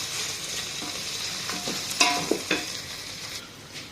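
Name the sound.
frying and stirring onion with ginger garlic paste for keema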